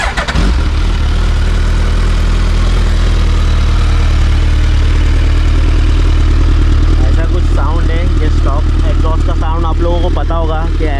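A BMW S1000RR sport bike with Black Widow headers runs loud and close, a dense, steady engine roar holding throughout, with voices faintly over the later part.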